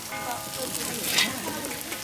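Dry red chillies and black cumin seeds sizzle in hot oil left over from frying climbing perch for a Bengali tel koi tempering; a close, steady crackling fry with a brief louder spatter midway, without talk.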